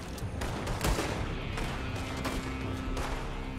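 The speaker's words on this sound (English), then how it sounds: "They're shooting from that building." Rapid gunfire rattles through a town shootout in Red Dead Redemption 2, dense overlapping shots crackling continuously with sharper bursts standing out, loud and close throughout.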